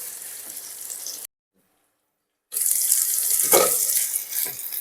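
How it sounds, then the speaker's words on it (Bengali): Potatoes fry in a pan for a vegetarian gourd-greens stalk chorchori, giving a bright, steady sizzle that drops into silence for about a second and then comes back louder. "আমি এটা 2 মিনিট মতো ভেজে নিচ্ছি।"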